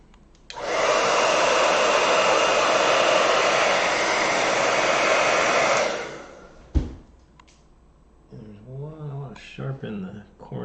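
A hair dryer blows loud and steady at close range for about five seconds while drying a watercolor painting, then cuts off. A knock and some quiet talk follow.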